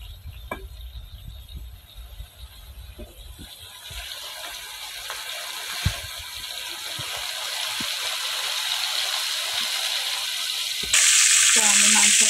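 Meat frying in hot oil in a wok in a home kitchen: a steady sizzle builds and grows louder, with occasional stirring clatter and a sharp brighter surge near the end.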